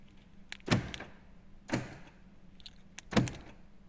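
A Vauxhall Astra K's central locking, triggered by the remote, clunks three times at even intervals, each a sharp mechanical thunk inside the car with no talk.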